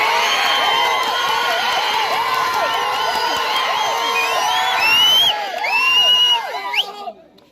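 A large crowd at a Telugu Desam Party political rally in Nellore shouts and cheers with many overlapping whoops and rising yells, loud and continuous before fading out at the end.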